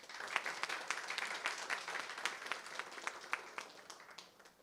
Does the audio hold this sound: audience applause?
yes